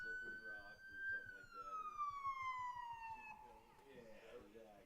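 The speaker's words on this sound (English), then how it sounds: "The siren's going off and everything." A stadium siren wails during a minor league baseball game between the Mercer Mammoths and Trenton Capitals, sounding a celebration for a hit. It holds one long, loud, steady tone that slowly drops in pitch, with a commentator talking over it throughout.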